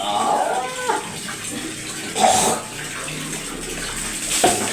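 Water poured over a body while bathing, a continuous gushing splash with brief louder surges as scoops of water hit skin, close and fairly loud with no speech.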